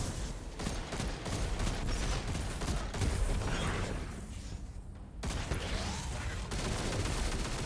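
Scout rifle fire in the video game The Quarry, a dense run of gunshots and mechanical clatter during a fight, loud and close, with a brief lull near the end before the shooting resumes.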